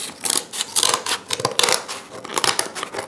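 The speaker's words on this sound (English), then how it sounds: "So now we're going to cut that one out." Scissors snipping through cardboard to cut out a scooper shape, a quick run of close, crisp cuts with brief pauses between strokes.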